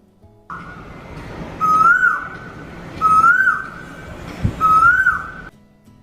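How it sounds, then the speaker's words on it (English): A cuckoo calls three times, each a clear rising whistled note at an even spacing, loud and close with nothing else around it. "cuckoo,"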